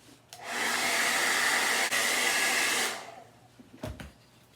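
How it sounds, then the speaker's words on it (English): A hair dryer blows steadily for about two and a half seconds over a stencilled burlap stool, switching on and off abruptly, with a few soft handling knocks after it stops. "now I'm going to blow this dry"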